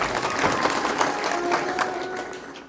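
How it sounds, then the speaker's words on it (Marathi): An audience at a Shrimad Bhagavat katha gathering breaks into brief, dense applause, a steady wash of clapping hands close and loud. "यांच्याकरता सगळ्यांनी जोरात टाळी वाजवा"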